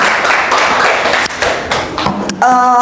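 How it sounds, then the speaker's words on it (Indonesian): Audience applause for a speaker at a university teaching workshop in an auditorium, a dense, steady clapping from a crowd lasting a few seconds before a short tonal ping at the end. "Oke, kita berikan aplaus dulu untuk Mas"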